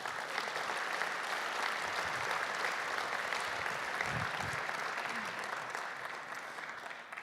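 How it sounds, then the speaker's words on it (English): At a sports awards ceremony, a large crowd gives a family sustained applause, a steady, even roar of many hands that fades slightly toward the end. "This family deserves a round of applause"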